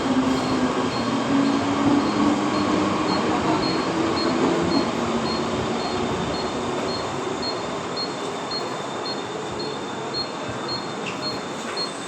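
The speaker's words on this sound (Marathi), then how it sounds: "प्लॅटफॉर्म क्रमांक 1 वर आलेली लोकल 3 वाजताची बदलापूरला जाणारी ही लोकल आहे" A Mumbai suburban slow local bound for Badlapur stands at platform 1, its continuous loud rumble and electric hum filling the station, with a steady faint periodic beeping above it.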